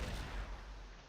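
A Black Panther skill explosion in a video game, a dense low rumbling boom that fills the short moment with sustained blast noise, fairly quiet overall and with no talk.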